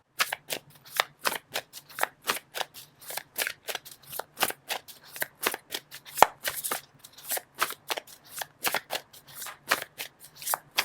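Tarot cards shuffled by hand in a long run of quick, crisp riffles and taps, evenly repeated and close, with short gaps between bursts and no talking.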